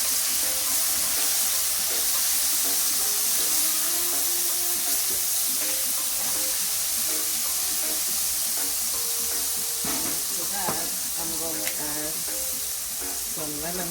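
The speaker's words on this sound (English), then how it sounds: "I have some olive oil in the pan. I'm going to add my favorites, minced garlic." Minced garlic sizzling steadily in olive oil in a pan, a loud, continuous frying hiss with light clinks and stirring sounds scattered through it.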